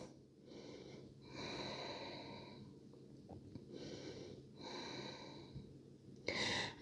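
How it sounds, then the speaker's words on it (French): Two deep, slow breaths are taken in a yoga forward bend, Paschimottanasana, each a soft airy inhale and exhale heard close, ending in a brief louder noise. "Prends 2 profondes respirations."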